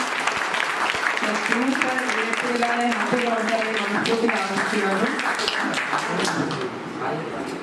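A crowd at a charity foundation gathering gives sustained applause for Raju garu and their guides. Dense clapping fills the whole stretch while a voice talks over it.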